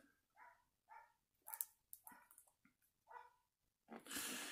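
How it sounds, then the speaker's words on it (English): Dogs bark in a quick series of short, faint yaps and barks, somewhat distant, ending with a burst of hissing noise. "sorry about the dogs barking in the background."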